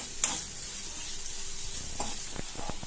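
Onions fry until light brown in oil, a constant hissing sizzle up close with a few scraping stirs and ladle taps near the end, no voices.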